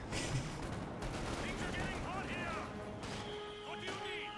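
A .50 cal machine gun fires in the Company of Heroes 2 video game amid a continuous battlefield din of rapid gunfire and impacts, with a commentator's voice talking over it.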